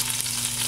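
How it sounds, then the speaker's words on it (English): A brief burst of loud, close sizzling of pot roast meat searing in a hot pot, steady hiss and crackle of frying in hot fat. "Ooh, nice sizzle in that."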